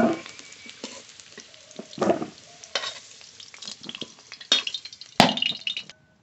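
Potatoes fry in mustard oil with a soft sizzle beneath repeated stirring and scraping strokes in the pan, uneven bursts of varying loudness, close by and without voices.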